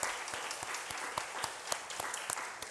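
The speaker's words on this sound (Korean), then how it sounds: "우리 환영의 박수 한번 하겠습니다" A church congregation claps in welcome for a visiting family during Sunday morning worship, a brief, even patter of many hands at moderate distance, fairly soft and without voices over it.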